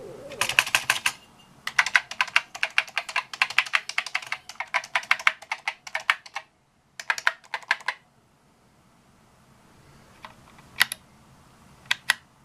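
Keys on a restored Commodore PET keyboard being pressed, rapid clusters of crisp clicking taps in bursts, then a short pause and a few sparse single presses near the end.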